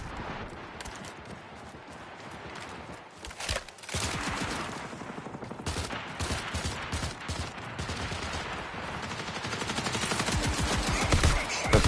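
Gunfire from a gun in the game Marathon rattles in rapid sustained bursts, dense and continuous with short pauses, loud and close with no talking over it.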